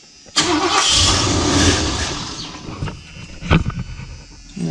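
The starter turns over the engine of a 1978 Ford E150 van that is getting no fuel: a loud, close churning crank for about two seconds that fades without catching, then a few brief thumps and clatters.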